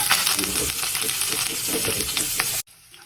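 Cumin, ginger and shallots sizzle loudly in a hot pan for a Kerala-style chicken sausage dish, the steady frying hiss mixed with stirring scrapes before cutting off abruptly near the end.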